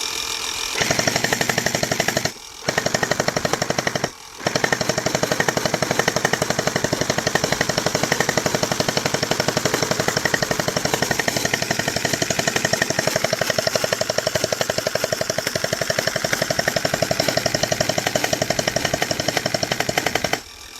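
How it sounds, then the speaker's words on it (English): A Hydro Strike Stratos Pro gel blaster fires at night in long, rapid, steady bursts with two brief pauses near the start. The loud, buzzing automatic chatter runs for about twenty seconds with no voices. "Now let's see it firing in the dark"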